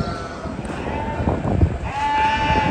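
Sheep bleating at the Ghazipur livestock market in Delhi while animals are loaded for transport, the calls rising over a busy crowd murmur with a longer sustained bleat near the end.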